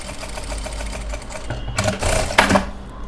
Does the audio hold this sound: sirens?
no